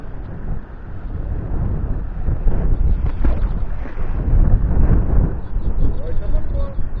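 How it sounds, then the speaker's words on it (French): Wind blows outdoors by the water, a steady rumbling buffeting across the microphone for several seconds, loud and continuous with gusts swelling toward the middle. "Ah, il y a du vent par contre."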